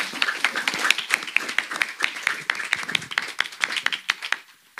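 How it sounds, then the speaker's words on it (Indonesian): Audience of women clapping hands together at an evening Islamic religious gathering and thanksgiving celebration, a steady run of sharp, fairly close claps across the whole stretch, thinning out near the end. "bisa tepuk tangan ibu semuanya ya"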